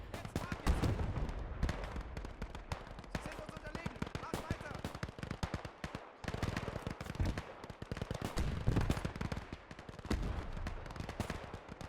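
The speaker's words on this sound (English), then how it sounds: "Hear that smattering, that gun, all the gunshots ringing off across the map." Dense gunfire from a Gates of Hell battle between German and Soviet forces, rifle shots and bursts cracking steadily across the map, some near and some far, mixed with explosions. Someone talks over the shooting.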